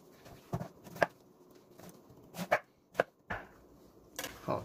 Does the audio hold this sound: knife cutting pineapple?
yes